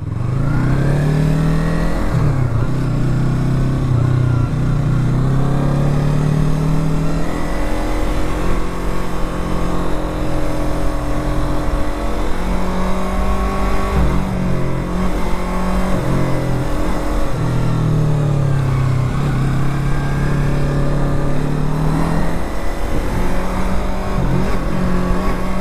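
A stunt motorcycle rides along back roads, its engine droning loud and close throughout, rising and falling in pitch as the rider revs and shifts, with steady wind rush underneath.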